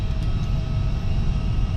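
An aircraft starting from cold and dark with EPU bleed air switched on gives a steady, loud mechanical hum and a faint whine that hold constant through the brief stretch.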